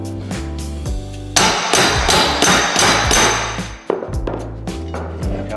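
A hammer strikes a metal flooring bar to pull new floorboards tight, a series of loud, sharp close-up blows in irregular bursts with brief pauses, with no talking.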